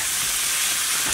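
Boiled eggs added to fried potatoes in a mustard-oil pan give a loud, continuous close hiss of frying that holds steady throughout, with no voices.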